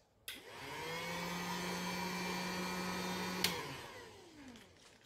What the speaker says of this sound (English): So I just place this gold over my heat gun stand for about a couple of seconds